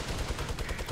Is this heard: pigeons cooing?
no